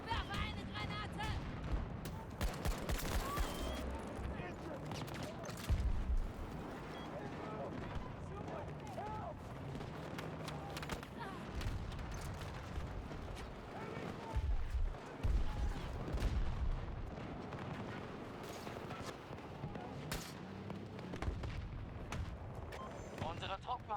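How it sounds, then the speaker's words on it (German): A thrown grenade goes off in the Battlefield 2042 video game: a dense, continuous battle soundscape of explosions and gunfire, with heavy booms near 6 and 15 seconds, while voices talk throughout. "Ich werfe eine Granate!"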